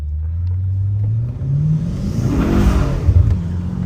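A BMW M8 Competition's engine revs hard with a rising and falling roar as the car fights for traction and slides, loud and close with a deep rumble and no talking.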